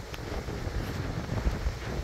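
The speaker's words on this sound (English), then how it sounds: "The wind is pushing me." Strong wind from Hurricane Ian on Cape Cod roars steadily as broadband noise, buffeting the microphone with a few low thumps.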